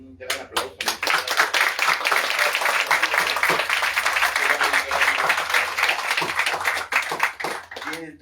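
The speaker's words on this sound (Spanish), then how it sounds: "Un gran aplauso." Audience at a literary talk on a book of poetry claps for the speakers: many crisp, distinct hand claps in a lively, uneven burst that stays strong for several seconds before tapering, with a few murmurs underneath.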